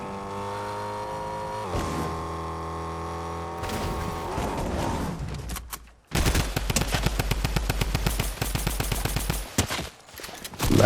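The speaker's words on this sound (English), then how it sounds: "I have to shoot people with a drum gun." A drum gun fires in the Fortnite video game, a long rapid burst of loud automatic shots in a dense steady rhythm, following a droning vehicle engine.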